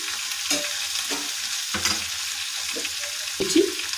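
Chikni greens hiss softly in a pan over a low flame, with a steady close sizzle broken by a few scraping strokes of a spatula, no voices.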